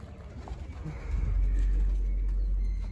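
Low rumbling, fluttering noise swells after a second and holds steady, like pigeon wings and soft coos close by, with no talking.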